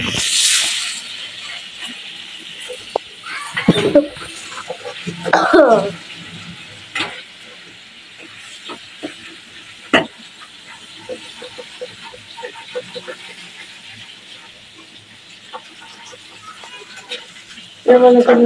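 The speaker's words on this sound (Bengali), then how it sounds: "আস্তে আস্তে ফ্রাই হচ্ছে" Homemade fish fry sizzling in a pan, a steady soft hiss running throughout, with people chatting in the kitchen over it and a few clatters of utensils.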